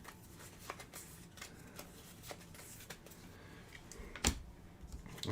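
Soft, close riffling and flicking of playing cards being shuffled during a tabletop card game, with scattered taps and a sharper snap near the end.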